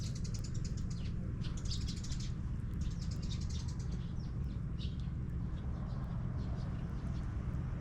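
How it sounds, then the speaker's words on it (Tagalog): Small birds chirp and tweet outdoors in Masbate, with scattered high calls over a steady low rumble of wind or distant traffic, and no one talking. "ay, ang ganda ng ibon"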